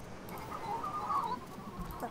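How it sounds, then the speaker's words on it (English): Chickens cluck in the farming video game Dinkum, a brief cluster of bird calls at moderate volume over game ambience, with no talk. "Man, my chickens are loud."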